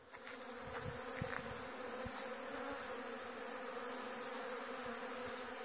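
Autumn honeybees feeding on hive frames, a dense steady buzz of many bees close by, continuous and even with faint scattered clicks and no voices.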